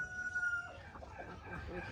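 A rooster crows faintly in the distance on a small poultry farm, a short drawn-out call followed by soft clucking.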